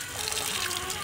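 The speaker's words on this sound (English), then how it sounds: "Just turning the water onto the house actually here with the Duluth build" Water rushing from a Prier single-handle hot and cold lawn hydrant on a house, a close, steady hiss of running flow over about a second with no talk.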